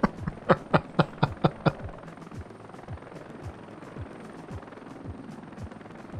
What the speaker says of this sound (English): the ambush is set up and the helicopter just flies in